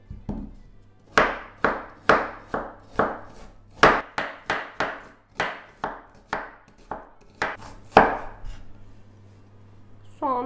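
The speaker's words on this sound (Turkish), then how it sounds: "Şimdi soğanı piyazlık bir şekilde doğruyorum." A knife slices onion into thin rings on a cutting board, giving about fifteen sharp, evenly spaced chops that sound close and distinct against quiet between strokes.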